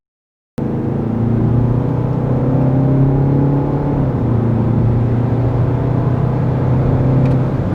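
A Kia Carnival (KA4) minivan with a 2.2-litre diesel engine accelerates, the engine droning loudly and continuously, its low hum holding steady and climbing slightly, close and unbroken after an abrupt start.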